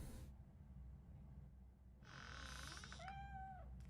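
A cat in the Robocop Rogue City video game meows in a rising, then falling cry, clear over a steady low game ambience with no talk.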